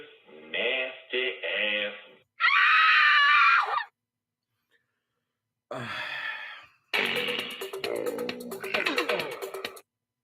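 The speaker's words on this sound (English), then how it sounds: "Sound guy, why do you keep hitting the women's scream?" A woman's scream sound effect is played several times: bursts of shrill, strained screaming and gasping, separated by short silences, with one long loud scream and a final rapid breathless sequence.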